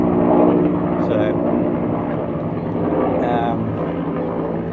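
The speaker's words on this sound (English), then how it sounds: "There are helicopters in the background because I'm doing this outside again." Helicopters flying overhead outdoors make a steady low droning rumble that persists throughout, moderately loud, with a voice talking over it.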